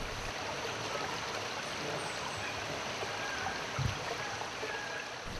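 Waterfall beside an ancient temple in Assam, producing a steady, soft, distant rush of water with no other sounds.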